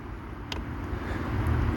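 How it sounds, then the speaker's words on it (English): A diesel heater's fuel pump, running from a small portable power station, gives a few faint, sharp clicks spaced about a second apart over a steady low hum. "it's the noise of the pump"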